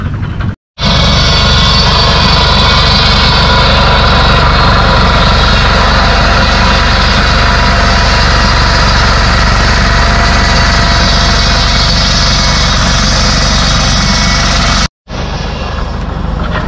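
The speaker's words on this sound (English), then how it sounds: "Here's a little Evinrude." A small vintage Evinrude engine running at a vintage machinery rally, a loud, steady idling drone with a continuous low rumble, broken by two short drops to silence at the start and near the end.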